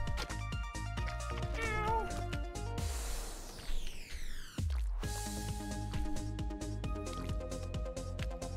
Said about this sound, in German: Ewi, miau, habe ich dich vergessen, gell, vorher.